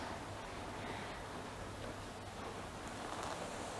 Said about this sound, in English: It's a very real rain outside.